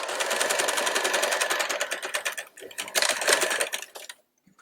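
A sewing machine runs a long plain stitch in rapid bursts, a loud, close mechanical whirr that pauses and restarts a few times before stopping.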